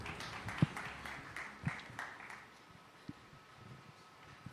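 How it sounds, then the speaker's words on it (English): Audience applause at a conference, a soft wash of clapping with a few sharper claps that fades out over a few seconds. "a big round of applause"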